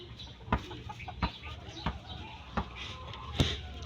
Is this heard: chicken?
yes